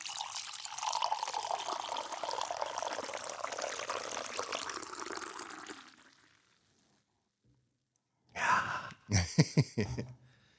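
Coffee pours into a cup in a steady, hissing stream lasting several seconds, then stops; after a pause come a few short, sharp sounds like breaths or gasps.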